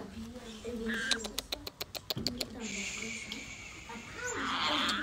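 Pet conure parrots calling in a spacious, cage-free setting, a run of sharp repeated chirps and squawks close by, mixed with other bird sounds and talk nearby.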